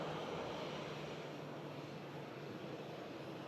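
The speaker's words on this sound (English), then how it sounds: "Logan Air pulling up to stand." A Logan Air regional airliner taxis to its stand at Manchester Airport, a steady, fairly faint engine hum with a low tonal drone holding evenly throughout, no voices.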